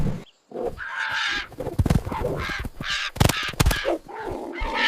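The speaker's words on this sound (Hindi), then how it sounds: "लेकिन तभी बहुत सारे सारस पक्षी आते हुए दिखे और उन्होंने तबाकी पर हमला कर दिया" A cartoon flock of storks attacks with harsh, cawing calls that come in repeated loud bursts, with one brief silent gap near the start.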